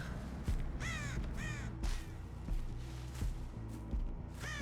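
Crows cawing in a video game, several harsh rising caws in separate bursts over a steady low game soundscape with rumbling background noise, no talking.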